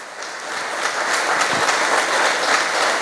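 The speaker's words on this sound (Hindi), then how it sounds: "जोरदार तालियां इनके लिए, इन बहन के लिए" A crowd at a Diamond Meet event breaks into loud, sustained applause, a dense wash of clapping from many hands that holds steady throughout with no voices heard.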